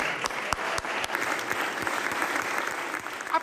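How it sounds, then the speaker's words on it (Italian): Guests in the historic Sala Stucchi applaud Giacomo Possamai as he receives the mayor's sash, steady crowd clapping with a few sharp, close individual claps standing out. "Applausi"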